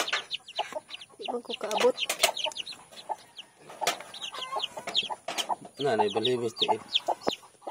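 Brahma chickens cluck and call repeatedly at close range, with short bursts and a longer cackling run near the end, mixed with wing flutters and occasional talking in Filipino.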